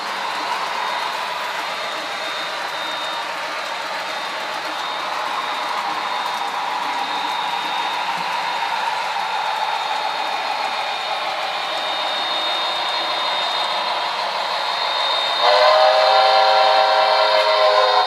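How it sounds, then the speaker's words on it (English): A train rumbles through with a steady rolling noise, and a drawn-out whistle or horn sounds near the end. "here's our second train coming down the line"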